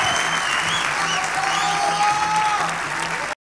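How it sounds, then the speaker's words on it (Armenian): Loud, sustained clapping from an audience at a televised singing contest gala, with some crowd noise and music underneath, cutting off abruptly near the end. "Այս բոլոր ծափարությունները քոնն էին,"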